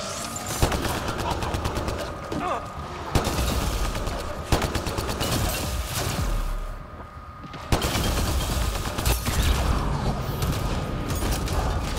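Rapid gunfire in the video game Mass Effect Andromeda during an attack on a Kett ship, with loud bursts of automatic shots broken by short pauses and mechanical clicks, plus a voice talking now and then.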